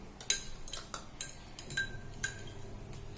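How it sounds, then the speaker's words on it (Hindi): A spoon stirring sugar into panchamrit in a bowl, making light scattered clinks and scrapes against the bowl, close and fairly quiet, with no talking. "शक्कर ऐसे आप चलाते रहिए तो वो घुल जाएगी, मिक्स हो जाएगी।"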